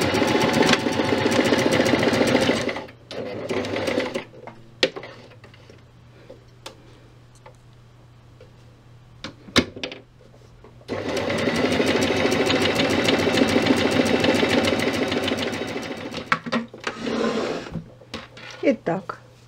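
A sewing machine stitches a fabric medical mask in two long runs of fast, steady mechanical clatter, with a quiet stretch of small clicks and handling in between.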